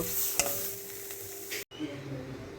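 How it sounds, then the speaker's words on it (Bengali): Ridge gourd mash fries in a wok with a soft continuous sizzle and scraping stirs of a utensil against the pan, faint and close, with a brief sharp clack and a momentary cut near the end. "যতক্ষণ না এই রকম কড়াইয়ের থেকে লেগে লেগে আসছে ততক্ষণই কন্টিনিউ ভাজতে হবে"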